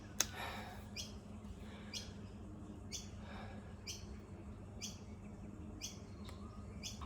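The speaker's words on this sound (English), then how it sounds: "There's an owl going off, plenty of birds" Backyard birds chirp faintly at a distance in a steady, repeating pattern of short, sharp calls, roughly once a second, over a quiet outdoor hush with no talking.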